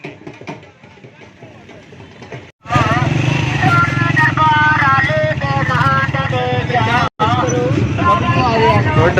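A motorbike being parked at a crowded fair starts after a quiet, murmuring stretch and then runs loud and close. Its steady rumbling engine plays under busy background voices and tonal fairground sounds, with a brief cutout near the end.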